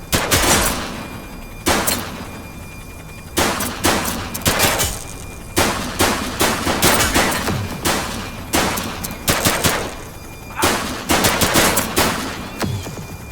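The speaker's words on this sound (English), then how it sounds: "Shots fired!" Gunfire in GTA V during a police shootout: repeated bursts of rapid automatic shots, loud and close, in clusters separated by brief pauses.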